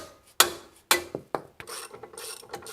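Bolt being unscrewed under a Nissan Xterra during differential work, giving a series of sharp metallic ratchet clicks and clunks, a few loud bursts followed by quicker lighter clicking, close by with no talking.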